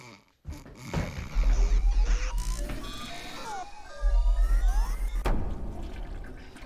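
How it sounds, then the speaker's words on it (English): A 3D printer runs with whirring stepper-motor tones and sliding pitch sweeps over a low mechanical hum, loud and close, surging in two bursts, with no talking. "did you touch my 3D printer last night?"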